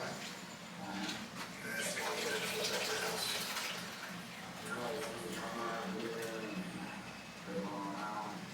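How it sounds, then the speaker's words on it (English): Water being drained off boiled potatoes, a steady close gushing and splashing that rises and falls, with people talking over it. "I'm gonna drain this water off these potatoes."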